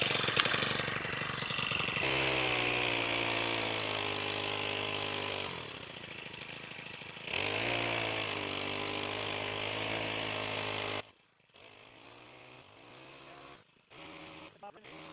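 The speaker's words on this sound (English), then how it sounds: "we get to use this new Senx tiller" A small new Senx garden tiller runs close by in a neglected garden bed, its engine droning steadily and shifting in pitch as it churns soil, then cutting off near the end.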